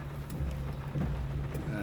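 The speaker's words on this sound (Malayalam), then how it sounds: "മഴ നല്ല സ്റ്റോങ്ങിൽ മഴ പെയ്യുന്നു" Heavy monsoon rain in Wayanad, Kerala roars in a dense, even wash, with a low rumble underneath throughout the brief stretch.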